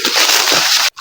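Heavy rain falls steadily, a loud, dense, close hiss that runs unbroken before cutting off abruptly near the end.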